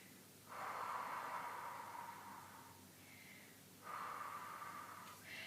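Deep breaths during a barre stretching exercise, two long, breathy exhalations heard up close, each lasting a couple of seconds and separated by a quiet pause.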